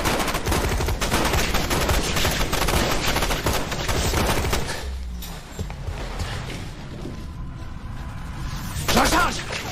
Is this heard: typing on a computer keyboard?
no